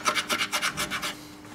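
Sandpaper rasps back and forth in steady, rhythmic strokes over painted Vespa scooter bodywork, close and moderately loud, about eight passes before fading out.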